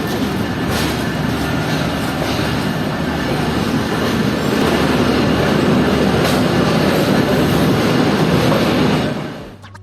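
Inside the 15 Up Karachi Express pulling into Lahore Junction, a loud continuous rumble of wheels and carriages with faint squealing goes on for several seconds, then quickly fades as the train slows.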